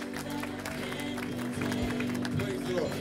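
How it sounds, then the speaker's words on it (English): A church congregation claps hands in praise, with rhythmic clapping running under sustained organ-like music and voices throughout. "give the Lord a hand clap of praise"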